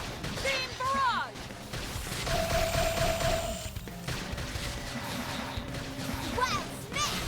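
Combat in Xenoblade Chronicles X as a beam barrage fires, with dense overlapping energy shots and impacts, sweeping electronic tones and a sustained whine, all under game sound effects and spoken voices.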